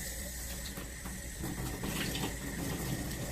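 Water runs from a faucet into a sink, a soft continuous splashing rush that grows slightly fuller partway through, quiet and without talk.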